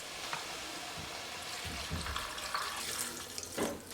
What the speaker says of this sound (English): And I'm going to put some water.